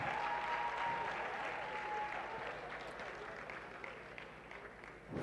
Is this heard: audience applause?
yes